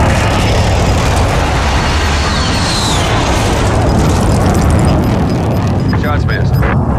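Airstrike explosions in a multiplayer war video game, a loud continuous rumbling roar of blasts and booms filling the whole clip, with voices faintly present beneath.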